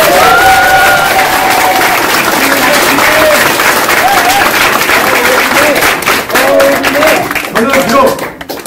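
A crowd at a Korean political rally claps and cheers, loud and sustained, with whoops and voices mixed in.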